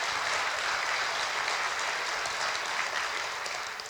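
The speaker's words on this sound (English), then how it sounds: "Round of applause for those folks." A seated crowd at an awards ceremony claps for foundation board members, a continuous even wash of applause heard from a distance that fades slightly at the end.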